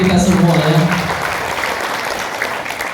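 A gathering claps together at an event in a hotel, with a voice speaking over it at first before the applause carries on as a steady, moderate patter.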